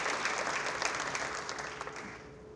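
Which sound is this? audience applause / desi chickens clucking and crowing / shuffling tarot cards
audience applause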